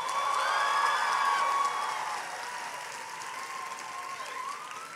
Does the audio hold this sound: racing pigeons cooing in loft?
no